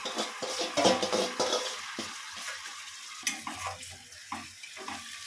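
Marinated country chicken drops into hot onion and garlic in a pan, giving a steady close sizzle and frying crackle with stirring scrapes and a few sharp bumps, no talking.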